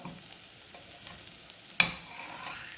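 Sliced onions, wilted and softened, fry quietly in a pan while being stirred. A soft continuous sizzle runs throughout, with a sharper scrape of the spoon partway through.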